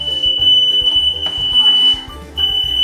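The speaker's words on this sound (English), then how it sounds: "the fire alarm's going off, apparently" A smoke alarm blares with a steady high-pitched electronic tone, loud and continuous, briefly dropping out before resuming, over a busy indoor room with background noise.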